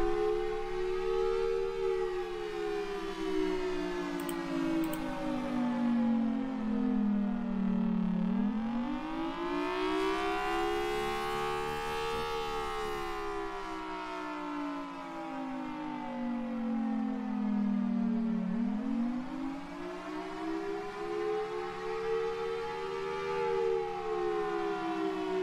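Loud civil-defense-style sirens wail continuously at a crowded convention, rising and falling in long slow sweeps that fill the space, with no talk over them.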